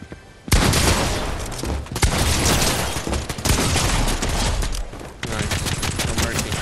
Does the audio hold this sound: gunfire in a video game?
yes